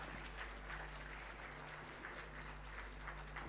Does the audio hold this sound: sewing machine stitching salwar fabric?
no